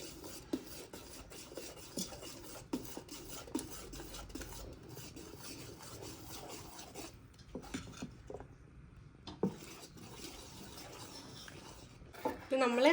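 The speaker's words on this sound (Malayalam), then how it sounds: "നമ്മൾ നല്ല രീതിയിൽ ഇങ്ങനെ ഇളക്കി കൊടുക്കണം" A spoon scrapes and stirs thick batter in a pot while making Kerala kalathappam, producing repeated soft rasps and occasional clinks against the metal, close and fairly quiet.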